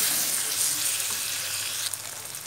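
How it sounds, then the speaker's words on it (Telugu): Onions and spices with a little turmeric fry in a pan, giving a steady, close sizzle that continues without a break and softens slightly toward the end. "కొంచెం పసుపు వేసి ఇవన్నీ బాగా ఫ్రై అవ్వనివ్వాలి."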